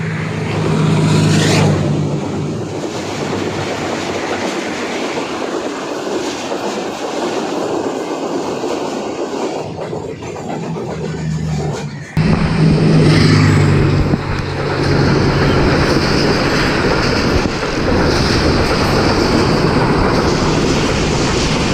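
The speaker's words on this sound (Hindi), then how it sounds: "ये रेल कार है जी लाहौर के लिए निकल रही है।" A rail car train pulls out of a station on its Lahore run, its engine droning loudly and steadily throughout with rumbling wheels, growing slightly stronger partway through as it moves off.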